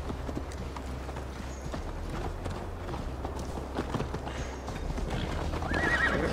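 A horse in Assassin's Creed Valhalla runs with steady clip-clop hoofbeats and a whinny near the end, close and fairly loud over a low ambient bed.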